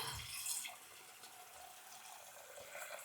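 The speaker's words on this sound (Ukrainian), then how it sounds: "сейчас водой залию" Tap water runs steadily into a pot to fill it for a broth in a home kitchen, a continuous close splashing wash with no talk.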